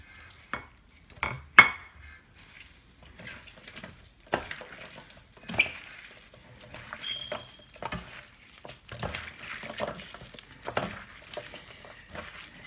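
Lao steamed vegetable salad (Soop Phak) being mixed by hand in a bowl: irregular close clinks, scrapes and soft stirring sounds with short pauses between, no talking.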